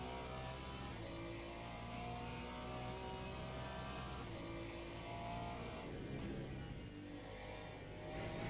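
A GT3 race car engine in the Le Mans Ultimate video game drones continuously and close, its harmonic pitch sliding up and down through gear changes with no talk over it.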